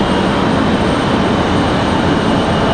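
An Airbus A320neo airliner, a Spirit flight bound for Baltimore, gives off a steady, loud, broadband engine roar near an airport, with no breaks.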